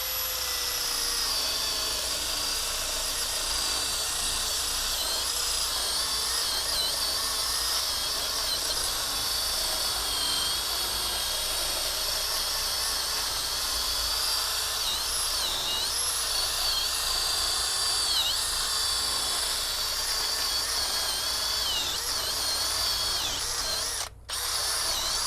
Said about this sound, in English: But power tools are better.